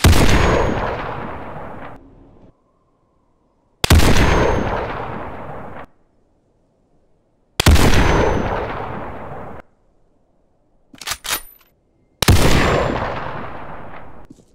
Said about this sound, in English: The shot sound of the BFG cuts off a tad bit too early.